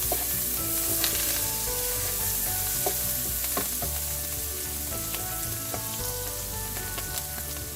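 Potatoes fry in a pan with cumin and finely chopped cilantro stalks, giving a steady, close, full sizzle with small pops and crackles throughout and occasional stirring scrapes, with no talking.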